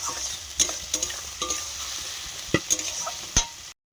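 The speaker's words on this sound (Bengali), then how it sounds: "জল দিয়ে মশলাটা কষাচ্ছি।" Spice paste of turmeric, chilli powder and ground cumin and coriander fries with water in a pan, a soft steady sizzle broken by frequent scraping clicks of stirring.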